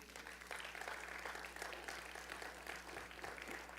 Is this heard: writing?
no